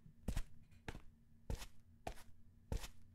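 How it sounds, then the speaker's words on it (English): Each press of X in the horror game Nyctophilia gives a dull tapping clatter like typing on a keyboard, heard as five short, close bursts spaced roughly half a second apart over a low steady hum. "Whenever I press X, it sounds like someone's typing a keyboard"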